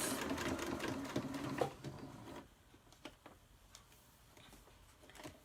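A sewing machine stitching a 3/8 inch seam in fabric, running as a fast, even mechanical patter for about two seconds before stopping, followed by faint scattered clicks and handling sounds.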